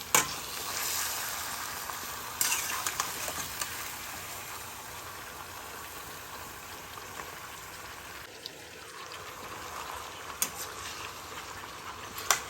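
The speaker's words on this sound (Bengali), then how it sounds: "সবজির ভিতরে এবার ভেজে নেওয়া মিষ্টি কুমড়োগুলো দিয়ে দেব ভালোভাবে মিশিয়ে দেবো" Fried pumpkin pieces being stirred into vegetables cooking for a Bengali labra curry, a steady soft sizzle with scattered scraping stir clicks throughout, no voices.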